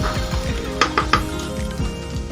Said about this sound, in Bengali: আগে থেকে ভিজিয়ে রাখা চাল ডালটা দিয়ে দেব এবার আরও তিন চার মিনিট সব কিছু নাড়াচাড়া করে নেবো